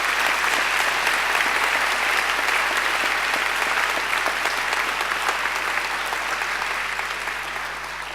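A full round of applause from the audience at a Macquarie University graduation ceremony, thick continuous clapping that holds steady and fades a little toward the close.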